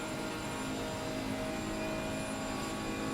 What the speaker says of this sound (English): You hear that turbo spooling up for the Monster Torque GTR on a huge defensive line